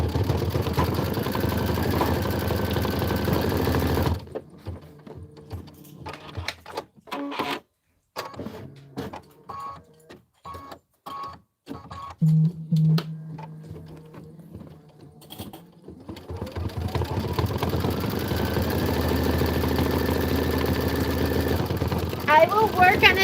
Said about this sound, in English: Now it's stitching out the lettering,